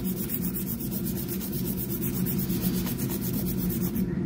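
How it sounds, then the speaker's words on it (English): A nail file rasps up and down a fingernail in steady, close, rapid strokes, a dry scratchy rubbing that continues without pause. "as I'm filing up and down the nail, I just keep rocking my file around my finger"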